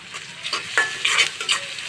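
Chopped green chilies frying in a pan while pasta is being cooked, short stirring scrapes and clinks over a soft sizzle, close by and brief.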